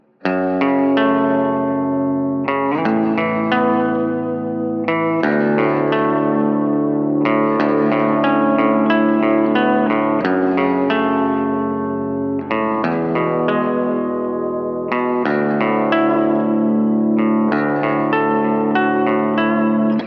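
Electric guitar with chorus and echo effects plays a repeating chord pattern, strummed phrases returning every couple of seconds, full and sustained.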